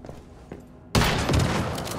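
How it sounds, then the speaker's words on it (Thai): A sudden loud explosion bursts out partway through in the survival shooter game Once Human, after faint quiet thumps, then a dense roaring rumble sustained to the end with no talk. "นี่อะไรระเบิดล่ะ"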